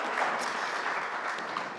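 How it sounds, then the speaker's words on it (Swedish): Studio audience on a Swedish morning talk show clapping, a dense, even patter of applause heard alone at moderate volume for a short stretch. "applåder får hon naturligtvis"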